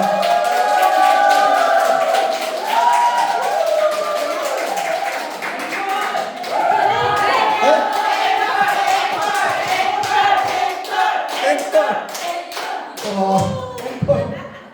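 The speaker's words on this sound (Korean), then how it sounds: "축하 박수 부탁드립니다." Audience of childcare teachers giving congratulatory applause at a family center event before a sand art performance, loud clapping mixed with cheers and crowd voices, fading to scattered claps.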